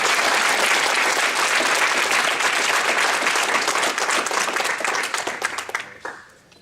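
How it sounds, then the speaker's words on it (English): A room full of people gives a warm round of applause, steady dense clapping that carries on before tapering off abruptly at the end. "Let's give her a nice round of applause."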